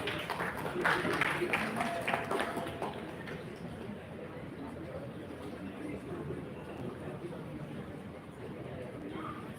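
Clapping from an audience at an HR conclave rises at the start, a scattered round of applause that lasts a few seconds before fading into quieter room murmur.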